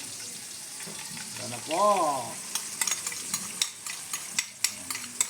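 Beaten egg goes into a hot frying pan and sizzles steadily, a continuous hiss with light stirring clicks and scrapes; a voice speaks briefly over it.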